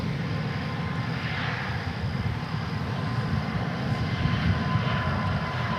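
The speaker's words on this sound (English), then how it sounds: "here is an American Airlines Heritage livery, an Air Cal livery" American Airlines jet in Air Cal heritage livery at an airport, engine noise a continuous broadband rumble and hiss holding steady at moderate loudness, no voices present.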